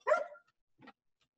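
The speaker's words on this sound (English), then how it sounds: "you keep pestering that dog over there" A dog gives one sharp bark followed by a fainter, shorter yip, both somewhat distant, with silence between them.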